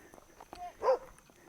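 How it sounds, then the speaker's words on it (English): A puppy gives a single short, mid-loud bark close by on a hot road during a trail thru-hike, with faint footsteps and scuffing before it. "One of those puppies wanted to bite me"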